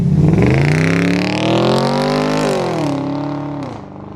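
The big V8 of a BMW 650i revs up loudly and close, holding a rising, strongly harmonic roar for a few seconds before the pitch drops back and fades.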